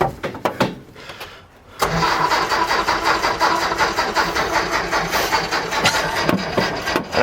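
Engine of a vintage Peugeot 402 with the choke pulled, cranking and sputtering: a few rough bursts, a short lull, then several seconds of loud, uneven turning over, close by, without talk.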